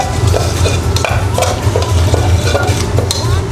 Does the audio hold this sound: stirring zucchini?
yes